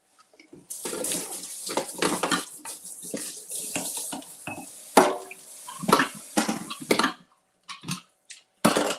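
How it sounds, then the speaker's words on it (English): Tap water running into a kitchen sink while something is rinsed off, splashing in uneven bursts with clinks of dishes, close and intermittent, with short pauses between flows. "Mom says clean as you go, so let me rinse this off"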